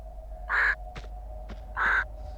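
Two loud, harsh caws from a bird in the video game Tomb Raider 2 Gold, spaced about a second apart over a low steady hum, with faint clicks between them.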